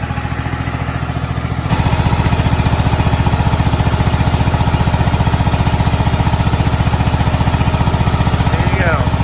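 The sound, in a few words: lawn tractor twin-cylinder engine running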